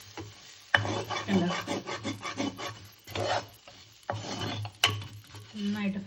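Beef frying to a dark colour in a pan, stirred with a utensil that scrapes and rubs against the metal in repeated bursts over a low background sizzle, with a brief spoken word near the start.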